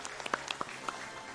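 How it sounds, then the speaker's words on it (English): Audience applause at a GDQx speedrun event, a faint, steady wash of clapping with a few sharper claps standing out, heard from a distance. "People want to clap. Let's clap."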